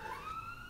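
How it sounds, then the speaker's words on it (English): A faint wailing siren rises and falls in the distance, a short stretch of tonal sweeping over background hum. "Sorry about the sirens in the background."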